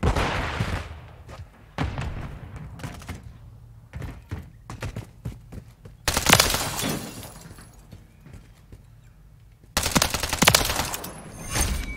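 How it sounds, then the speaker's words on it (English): Grenade explosion during a Call of Duty Modern Warfare III team deathmatch: two loud, sharp blasts about four seconds apart, each with a shattering tail, surrounded by scattered gunfire thumps and clatter. "Grenade out!"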